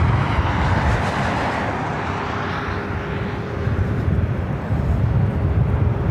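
A Southwest Airlines Boeing 737 MAX 8 arriving at LAX roars as a loud, broad, continuous rush of jet noise, swelling slightly toward the end.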